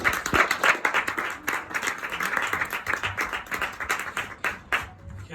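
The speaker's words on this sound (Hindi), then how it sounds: "जोरदार तालियां गाइस" An audience claps after a stage performance in Goregaon, Mumbai, with uneven bursts of clapping rising and falling, some single claps standing out, and voices talking over part of it.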